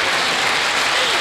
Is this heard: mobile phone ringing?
no